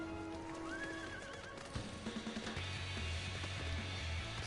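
A horse mount in Final Fantasy XIV gives a rising, fluttering whinny, followed by a quick run of clip-clopping hoofbeats, all fairly quiet and alone.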